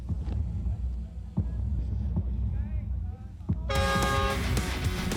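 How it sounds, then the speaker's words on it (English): An air horn gives a loud, sustained blast with a steady tone to start a UCI cross-country mountain bike race at Towerbos Trails. It cuts in suddenly after a few seconds of low murmur and scattered thumps, and holds to the end. "Wait for the race horn."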